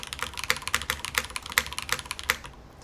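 Close, fast typing on a mechanical keyboard with Cherry switches, a steady run of sharp keystroke clacks with a few louder hits, no talking.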